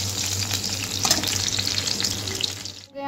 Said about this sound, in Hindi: तो इसको थोड़ा सा डीप फ्राई करूंगी